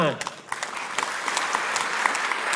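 A seminar audience breaks into clapping after being invited to applaud, a steady patter of many hands in a hall, with a voice briefly audible at the start and the clapping continuing to the end.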